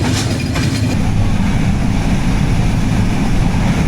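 Padma Express train running at night at around 80 to 90 km/h, a loud close rumbling roar with clattering wheel noise, steady throughout with no talk.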